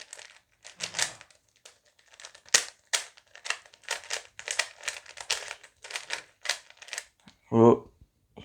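A Rubik's cube being twisted and scrambled by hand, giving a dense run of quick plastic clicks and rattles in close, uneven bursts, with a brief louder rattle near the end.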